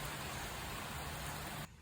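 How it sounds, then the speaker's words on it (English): A rainstorm in Boiling Springs heard from shelter under a bridge, a steady wash of falling rain that continues evenly before dropping away abruptly at the end. "I'm waiting out a rainstorm under this bridge."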